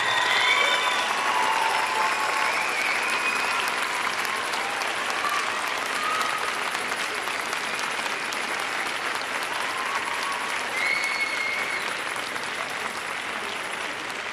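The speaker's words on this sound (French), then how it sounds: "je vous demande de les applaudir chaleureusement en signe de reconnaissance pour leur appui" A graduation ceremony audience at a university faculty of education applauds warmly, a dense, steady wash of many hands clapping throughout, with faint cheers and voices mixed in.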